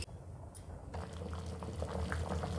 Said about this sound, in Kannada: ನೋಡಿ ಸಾಂಬಾರು ಇವಾಗ ಕುದೀತಾ ಇದೆ